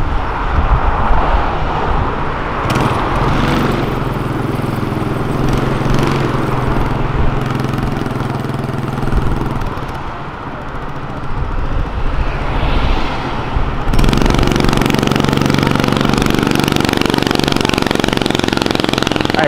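An Audi RS4 engine revving on an avenue, a loud, sustained engine roar that dips briefly and then surges to a stronger, steady drone.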